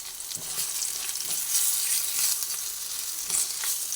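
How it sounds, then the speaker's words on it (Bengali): Onion and capsicum frying in a pan over a lowered gas flame, a dense, even sizzle held steady throughout, with a few soft stirring knocks underneath, close and continuous with no talk. "পেঁয়াজ আর ক্যাপসিকাম ভাজা হচ্ছে"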